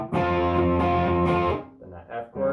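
Electric guitar strummed through a distortion pedal with the wah pedal off, sustained chords ringing loud and close, then a shorter, quieter chord pair.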